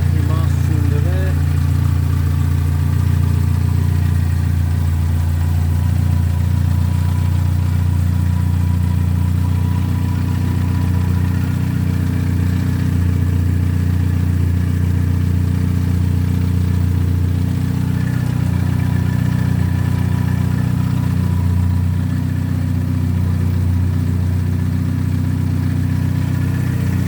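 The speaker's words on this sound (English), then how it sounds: "A bit of an exhaust blow. It's but she sounds fit enough." A 1960 Sunbeam Rapier MkIII coupe idles steadily for the whole stretch, its engine note a low, even rumble with a puffing exhaust blow running through it, heard close and loud without interruption.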